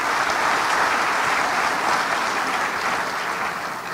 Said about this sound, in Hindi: बच्चों, बहुत बहुत धन्यवाद देने के लिए सबसे पहले गर्मजोशी से तालियों से स्वागत इस्तकबाल करिए